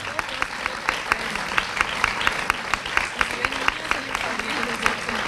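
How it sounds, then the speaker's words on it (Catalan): Steady applause from a neighbourhood festival crowd greeting the queen's boss at a Sant Pere district queen proclamation, with clear repeated claps standing out over a dense clapping bed and some talk mixed in. "Fort aplaudiment, que és el jefe"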